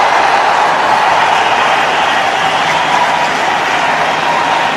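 Cricket stadium crowd roaring after a wicket in a Pakistan vs Sri Lanka one-day match in Sharjah, a loud, continuous wall of cheering and applause from a large crowd, steady throughout.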